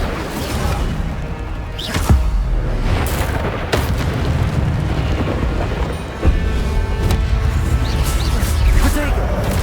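A fire spell cast in the Hogwarts Legacy video game, heard as repeated loud booming blasts and whooshing bursts over a dense, continuous roar of game effects, with a voice calling out spell names throughout.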